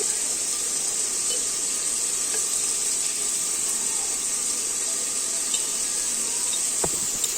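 Tomatoes fry in a pan with turmeric for a small-fish tamarind curry, making a soft, continuous sizzling hiss close by, with one brief clink of a utensil near the end.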